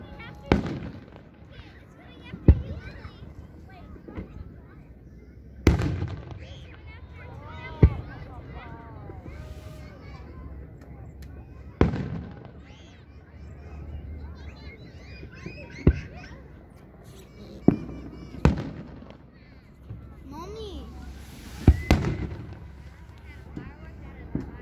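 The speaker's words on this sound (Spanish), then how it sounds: "Espero que estén disfrutando estos bonitos cohetes, estas bonitas luces tan bonitos" Sharp fireworks bangs burst out one after another at irregular intervals during a US Independence Day display, some loud and close, over a steady crowd murmur and excited voices.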